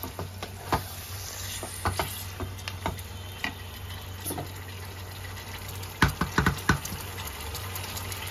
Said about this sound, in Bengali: এবার মশলার সাথে ভালো করে মিক্স করে নেব।